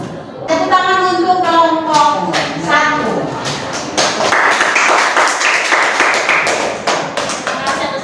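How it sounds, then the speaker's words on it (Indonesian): Applause in a classroom for a student group, with scattered, uneven clapping that builds into a loud burst, mixed with voices talking over it. "Tepuk tangan untuk kelompok 1"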